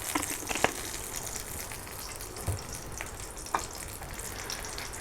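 Hilsa fish frying in a generous amount of hot oil in a home kitchen, giving a steady, soft sizzle with a few faint clicks and stirs scattered through it.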